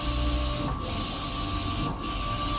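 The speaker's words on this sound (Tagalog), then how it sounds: "yung brand ng printer natin is Jedtech" A Jedtech 44-inch large format sublimation printer runs with a steady mechanical hum and faint rail-like whir, continuous and fairly close, with brief dips in the motion noise and no talking.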